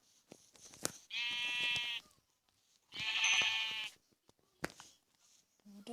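Two long, loud bleats from a Minecraft sheep sound close by in the game, separated by quiet gaps with scattered small clicks and thumps from gameplay.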